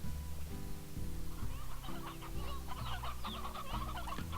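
A stony hen in the video game Slime Rancher clucks in short bursts over a looping low musical backdrop, the fowl calls moderately close and repeated.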